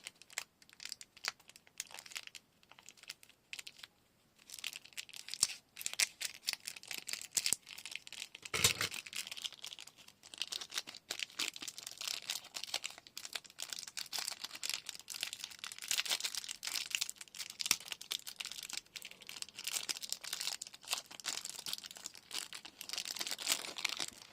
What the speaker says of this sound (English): It's hard to open. Hard to open. I'm gonna cut it with scissors.